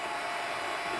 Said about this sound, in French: Elle ne fait aucun bruit, mis à part les ventilateurs.